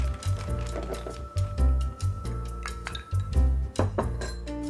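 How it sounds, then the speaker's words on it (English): An ice cube drops into a cocktail glass, clinking and knocking against the glass several times in irregular bursts, close and clear, with background room noise. "And then I'm gonna add my ice cube."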